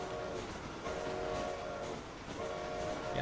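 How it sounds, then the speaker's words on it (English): A video game train in Red Dead Redemption rumbles along with repeated horn blasts, three drawn-out tones over a steady mechanical rolling noise, fairly close. "Yep, that's a train."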